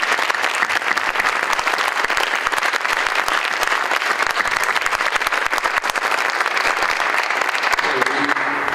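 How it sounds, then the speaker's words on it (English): Audience at an alumni awards ceremony applauding, a dense, loud, even wash of many hands clapping that holds steady throughout without voices on top. "Let's give them all a round of applause."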